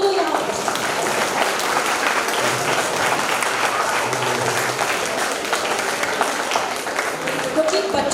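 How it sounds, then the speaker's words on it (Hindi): Loud, sustained applause from children at a Janmashtami program, dense clapping running steadily through the whole stretch with voices mixed faintly underneath. "अपने बच्चों से कहूँगी जोरदार ताली बजाई जाए"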